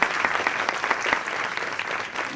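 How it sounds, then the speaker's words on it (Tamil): Audience applause at a Tamil stage debate event, dense steady clapping filling the hall throughout, fairly loud with no clear pauses. "இன்னும் ஒரு பலத்த கரகோஷம்"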